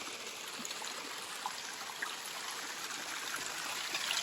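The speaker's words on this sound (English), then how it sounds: "Kind of dripping into the cooler dome" Hot water from a jacuzzi build trickles steadily into a cooler dome, a continuous close splashing hiss with no talk and a slight swell toward the end.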